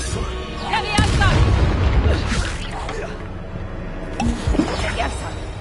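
Magic spell effects cast in a wizard video game, with a booming burst near the start and sharper blasts later, layered over continuous game sound and voices.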